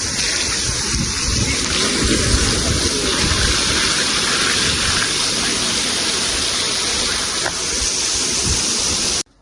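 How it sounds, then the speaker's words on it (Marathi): Loud, steady rush of water pouring into a tank on a pickup truck, continuing unbroken for several seconds, then cutting off abruptly at the end. "हे बघा पाणी भरायला चालू झालेलं आहे."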